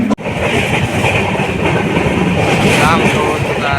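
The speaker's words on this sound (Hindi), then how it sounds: "Express train." An express train bound for Lokmanya Tilak Terminus runs past on the adjacent track, a loud steady rumble and rattle of wagons close by, with a sharp knock at the start.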